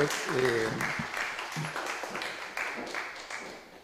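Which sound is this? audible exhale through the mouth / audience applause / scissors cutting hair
audience applause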